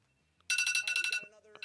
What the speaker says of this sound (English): Thanks to my alarm.